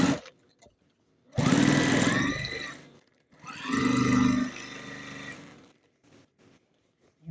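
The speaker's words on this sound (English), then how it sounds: "Let's get the bottom of the second row sewn on there." A sewing machine stitches clear plastic pockets onto a hanging organizer in two loud bursts of rapid whirring, separated by a short pause, with quiet gaps before and after.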